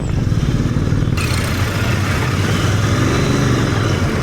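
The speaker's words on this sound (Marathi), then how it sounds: "फुल ट्रॅफिक, फुल" Heavy road traffic with motorcycles on a solo ride toward Lonavala: a dense, continuous rumble of nearby engines and revving fills the whole stretch at a steady, loud level with no talk.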